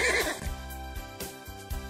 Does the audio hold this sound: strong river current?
no